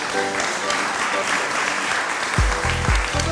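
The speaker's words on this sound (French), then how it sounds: "Mohamed Mbougar Sarr, vous pouvez l'applaudir." Audience applause at the Paris book festival, a steady dense clapping throughout, with a voice speaking over it near the end.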